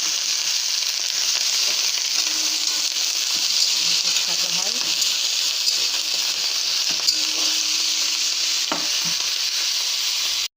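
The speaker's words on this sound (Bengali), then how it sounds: "একটু কালো জিরা ফোড়ন দিলাম, কয়েকটা কাঁচা লঙ্কা, পেঁয়াজ কলি, গাজর, আলু দিয়ে একটা ভাজা" Nigella seeds, green chilies, onion greens, carrot and potato fry in hot oil with a loud, constant sizzle and occasional stirring scrapes, while someone talks briefly over it.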